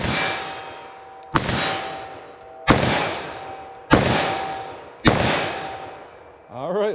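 .357 Magnum revolver fired double action at a steel target 25 yards away: four sharp reports in a steady rhythm, each ringing off with a long metallic clang that fades before the next shot.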